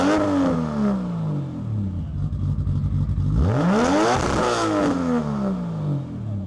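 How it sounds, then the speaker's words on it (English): A midnight purple Nissan Skyline R32 GT-R with a T04Z turbo and 700-plus horsepower revs loudly up and down close by, its engine note climbing and falling in sweeping harmonic arcs, with no talk. "we've got another T04Z equipped GT-R, but this time it's a midnight purple R32 with a Doluck body kit"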